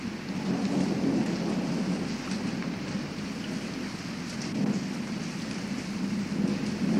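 Steady, heavy rain pours down continuously, with low rolling thunder rumbling through it.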